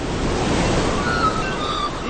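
Sea waves in a radio drama scene of Icarus falling into the sea, a steady loud wash of surf and wind-like noise rolling on without pause.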